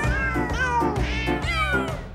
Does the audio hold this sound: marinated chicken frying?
no